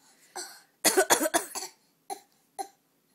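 A child coughs in a quick cluster of harsh bursts, followed by two softer single coughs after short pauses.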